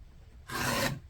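A rotary cutter slicing along the edge of a half-square-triangle quilting fabric block on a cutting mat, one brief rasping stroke under half a second long, close and clear after a quiet pause.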